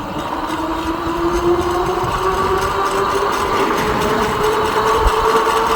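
An ESKUTE Spark X all-terrain electric bike running at top speed on throttle alone, a steady whining motor hum with rising tone over continuous wind and road rumble, close and unbroken.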